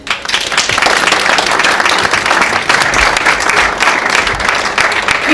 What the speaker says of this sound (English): Keep the applause going.